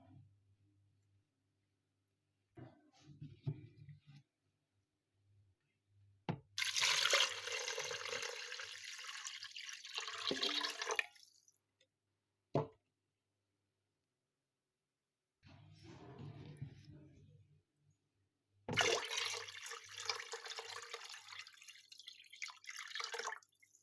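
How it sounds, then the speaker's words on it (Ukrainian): About two litres of water poured into the bowl of a 5-litre multicooker holding meat, heard as two bursts of gushing splashing separated by quiet gaps and faint handling noises. "Беру свою помічницю мультиварку, не реклама, і закладаю м'яско, заливаю водою."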